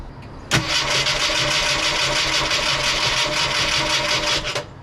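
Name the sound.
1984 Ford Mustang SVO turbo engine cranking and starting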